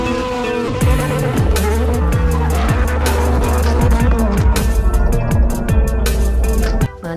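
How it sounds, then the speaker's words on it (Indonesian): A blue toy race car plays electronic engine revs, skids and music, loud and continuous, with repeated rising and falling tones close to the mic. "Wow, ternyata mobil balap berwarna biru."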